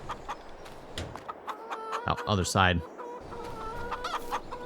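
Chickens and a rooster in Farming Simulator 22 give a string of close clucks and one loud, drawn-out squawking call in the middle, while someone speaks briefly.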